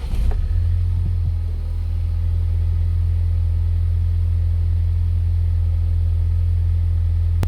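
Ford Focus ST engine idles after a keyless start, a brief startup burst settling into a steady, deep, loud hum that holds evenly throughout.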